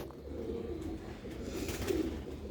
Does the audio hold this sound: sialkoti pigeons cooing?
yes